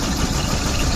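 Suzuki Bolan engine turning over during a compression check for a misfire, a dense, rapid low chugging rumble heard up close and loud throughout.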